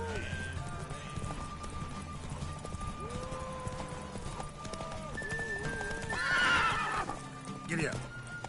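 Horse in The Witcher 3 game, hooves clip-clopping steadily throughout with a loud neigh and whinny near the end, set over game music and ambience while a character speaks.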